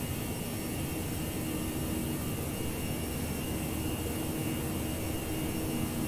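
Jet engines of a Toliss Airbus A319 in X-Plane 11 roar steadily at full takeoff power through rotation, a loud continuous broadband rumble and whine with no pauses.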